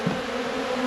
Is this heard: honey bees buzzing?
yes